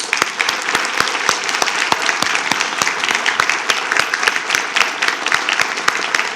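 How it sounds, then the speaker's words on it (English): Audience applause at a school board meeting, steady and dense across the room, with sharp individual claps standing out over a continuous wash of clapping. "as we give Miss Sylvia Taylor Hannah a huge round of applause"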